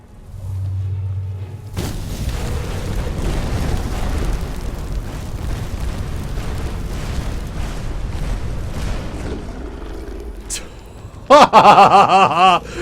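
A bombardment spell in Skyrim erupts in a loud, sustained rumbling explosion with crackling debris, then ends in a sharp burst of harsh bright tones near the end.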